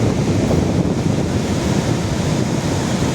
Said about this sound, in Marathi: समुद्राचं रौद्र रूप